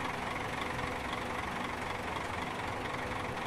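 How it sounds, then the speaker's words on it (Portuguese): A bus engine idles in a Euro Truck Simulator 2 bus mod, a faint, steady low rumble with an even knocking texture that runs unbroken and without talk. "o barulho do motor é igualzinho mesmo"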